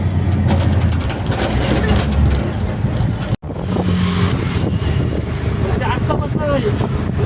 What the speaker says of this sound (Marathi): शौर्य, तुला मजा वाटायची रिक्षा?